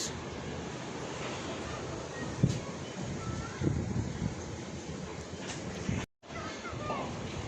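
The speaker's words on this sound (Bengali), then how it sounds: "এত বৃষ্টি আর বাতাস" Heavy rain and gusting wind from Cyclone Remal lash a home in Bangladesh, making a steady roaring wash with a few brief knocks. A short dropout occurs near the end.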